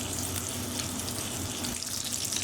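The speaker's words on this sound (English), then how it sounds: "And all we're doing to our shanks is browning them on all sides." Lamb shanks browning in hot oil in a pan give a loud, steady, close sizzle and crackle that holds throughout without talking.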